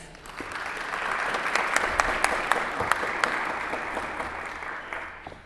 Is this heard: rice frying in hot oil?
no